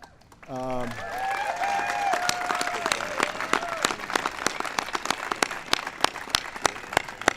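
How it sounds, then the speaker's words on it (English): Crowd at a White House ceremony honoring the Super Bowl champion Denver Broncos breaks into loud, sustained applause with scattered sharp claps after a brief voice at the start. "let's give a big round of applause to Mrs. Annabelle Bolin."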